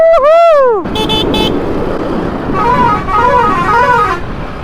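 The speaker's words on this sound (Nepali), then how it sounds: "गाडी आइरहेछ उताबाट पनि" A vehicle horn honks loudly near the start, followed by steady road and engine rush from traffic approaching on a rain-dampened mountain road in Dhading, Nepal, heard from a motorcycle on a solo ride.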